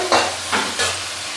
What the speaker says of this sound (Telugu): ఇప్పుడైతే పీన్స్కాయల్ని, ఉర్లగడ్డని ఇలాగే కాసేపు అయితే మగ్గనిచ్చుకుందాం ఆయిల్లో